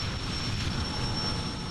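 A ship's gas turbine engine starting up gives a steady, loud turbine roar with a high-pitched whine held constant throughout, a continuous engine rush with no pauses.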